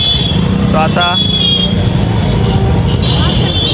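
Cars arriving along a busy road in Varanasi, with engine rumble, passing traffic and short horn toots, close and steady under a person talking.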